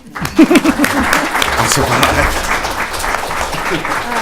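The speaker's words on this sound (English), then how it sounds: "We can applaud now." An audience claps for candidates at the close of a Monona Grove school board candidate forum, a loud sustained round of applause that begins with a voice speaking briefly and then fills the room alone.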